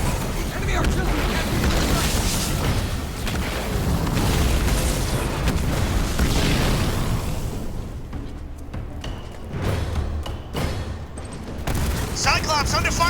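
Heavy artillery explosions in the video game Halo Wars 2 rumble in a dense, continuous roar of booms that thins toward the end, leaving scattered blasts and game effects.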